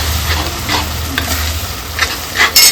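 Masala simmers and bubbles in a pan after a cup of water is added, while cooking a stuffed chicken dish, a steady sizzling hiss with occasional stirring scrapes and a louder clatter near the end.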